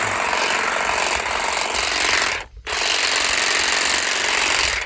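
Saker cordless grass shears chatter through grass with a loud, continuous buzzing rattle of reciprocating blades, close up, broken by one brief pause midway before resuming.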